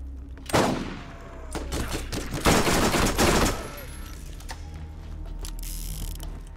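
Bursts of gunfire in the game Borderlands crackle in quick clusters over a steady low rumble, with mechanical clicking between volleys and no talking.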